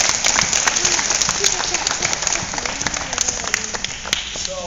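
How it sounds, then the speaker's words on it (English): An audience applauds a motivational coach's talk, a steady wash of clapping with voices and shouts mixed in throughout. "Give yourselves a round of applause."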